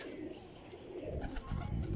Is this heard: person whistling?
no